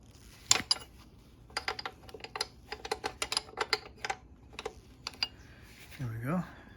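Ratchet clicking while loosening the chain adjuster on the rear of a Kawasaki ZX6R motorcycle: a run of sharp, irregular ticks at close range, ending with a brief low hum.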